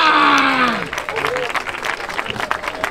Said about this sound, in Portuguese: Palmas nessa batalha!